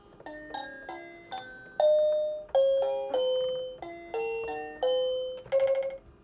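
Bell voice from a Chad Valley toy electronic keyboard plays a short melody of about a dozen clear, ringing electronic chime notes, each decaying smoothly, with no talk.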